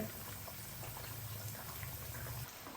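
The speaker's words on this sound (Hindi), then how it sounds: "मीडियम से लो फ्लेम पे हमने इसको 8 से 10 मिनट के लिए अभी मजीद फ्राई कर लेना है।" Fish pakora deep frying in ghee over a medium-low flame, a steady, dense bubbling and sizzling that carries on evenly throughout at moderate loudness, with no voices over it.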